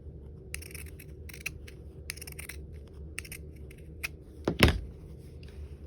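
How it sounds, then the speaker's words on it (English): Pinking shears cutting fabric for a sewn ornament: a series of crisp, short snipping crunches in uneven clusters, close and fairly quiet, ending with a louder thump and scrape. "And I like to use my pinking shears because I like this."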